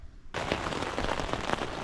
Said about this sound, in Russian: потому что начался второй дождь